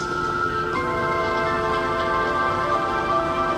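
A louder section of the Minecraft Bedrock soundtrack plays as a dense, sustained wash of layered tones with steady volume throughout, close and unbroken, with no one talking.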